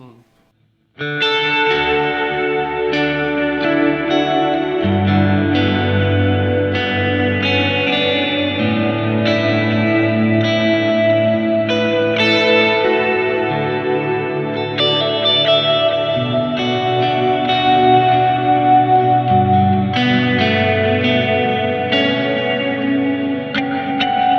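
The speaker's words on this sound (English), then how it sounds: "Here's like an ambient verb you could use on a Sunday morning." Electric guitar played through a Line 6 Helix ambient reverb preset called 'Cloudy', sustained chords and notes washing into a long, lush reverb tail with a deep, bellowy low end, loud and continuous throughout.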